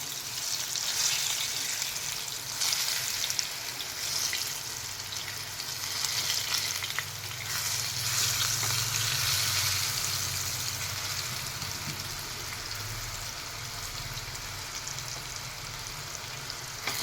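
Slices of eggplant sizzle and crackle steadily in a hot pan, a continuous close frying hiss with occasional stirring or shifting sounds and no talking.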